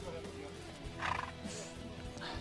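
A nervous horse being broken in, which resists being mounted, gives a short, fairly faint neigh amid background noise and shuffling.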